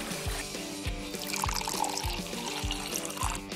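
Water pours into a cup in a steady trickle, mixed with background music that has a regular, thumping bass beat.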